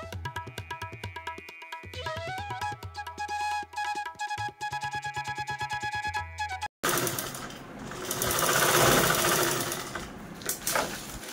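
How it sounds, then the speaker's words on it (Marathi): A sewing machine stitches a zipper onto a large eight-pocket baby travel bag, its fast rhythmic needle clatter running in close bursts with short pauses before giving way to a rougher rustling of fabric. "ही झिप आहे ती स्टिच करून घ्यायची आहे"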